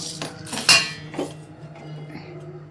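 Roasted urad dal tipped from a hot pan into a metal vessel, giving a close run of metallic scrapes and clinks with one sharp clatter, then fading to a quieter rattle.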